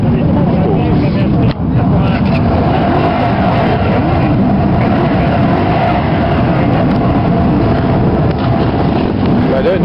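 A dense, continuous rumble of thousands of motorbike engines idling and revving together at a large biker gathering, loud and enveloping, with a voice speaking over the din.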